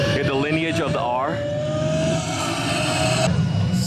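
A Pagani Zonda R supercar engine revs at a show event, rising and falling in pitch before settling into a steady high-pitched drone, with crowd murmur in the background.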